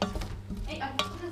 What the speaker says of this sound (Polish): Dodajemy pietruszkę i oczywiście mieszamy i gotujemy przez co najmniej minutę